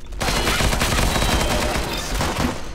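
Dual pistols firing in the Roblox shooter Arsenal, a dense, loud, continuous barrage of shots with no pauses, filling the whole stretch.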